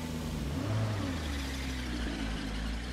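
A car engine in State of Decay 2 revs at a steady mid pitch, a continuous close motor drone with a slight surge near the start and no voices.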